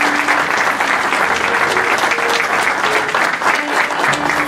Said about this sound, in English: let's give the district attorney another round of applause